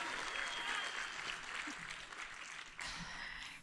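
A convention crowd at PAX East 2022 applauds steadily, a dense, fairly distant wash of clapping that runs throughout with a small jump partway through and no speech on top.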